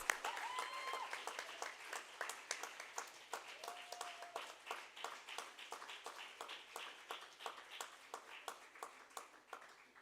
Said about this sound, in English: Can I please have you on stage so everyone could see you and maybe have a big round of applause?